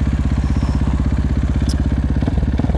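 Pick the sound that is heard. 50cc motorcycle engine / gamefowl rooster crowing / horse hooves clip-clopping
50cc motorcycle engine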